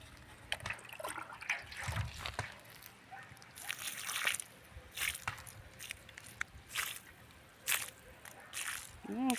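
Water poured onto a freshly planted garden bed, with soft squishing, dripping and sloshing in irregular bursts close by, and a faint murmur of talk in the background.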